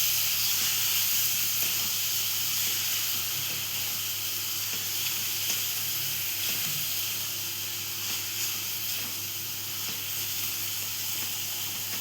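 Onion and fish (mackerel) sautéing in a pan for an Alibag-style dry curry, a steady soft sizzle and hiss running throughout at an even level with no talk.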